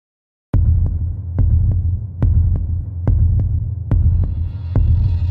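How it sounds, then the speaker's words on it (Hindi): A heartbeat sound effect in a Hindi audio story beats in a steady, paired thump-thump rhythm over a low, constant hum, loud and close, about a dozen beats with no voices. "रुद्र की दिल की धड़कनें तेज होने लगती हैं।"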